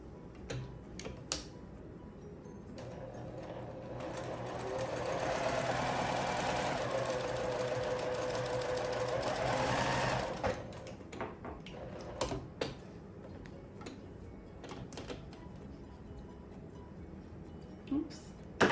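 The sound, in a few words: sewing machine stitching quilt block fabric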